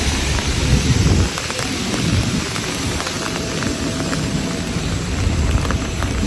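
Steady, heavy rain falls throughout, with broad rumbling of thunder mixed in, dense and continuous, and no voices.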